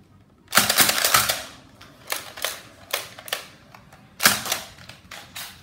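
A NERF Elite Strongarm blaster slam-fires foam darts in quick clusters of sharp, snappy pops, with a few loud shots up close followed by lighter, spaced clicks and bursts.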